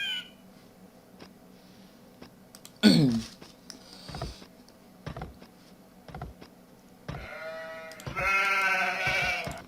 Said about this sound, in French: tu vois là le mouton